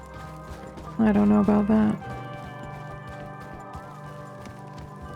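Hooves clip-clop on a horse in Red Dead Redemption 2, a short burst of a few quick steps mixed with game music, while a voice talks over it.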